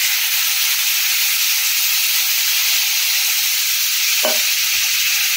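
Water goes into a hot pot of rice and lentils for khichuri, raising a loud continuous steamy hiss and sizzle close by, with a faint clink near the end.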